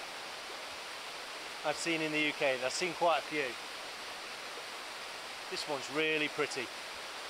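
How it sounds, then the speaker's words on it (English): Linhope Spout, a pretty waterfall in Northumberland, gives a steady broadband rush of falling water that runs right through, with someone talking over it in two bursts. "here is Linhope Spout. I think this is the prettiest waterfall"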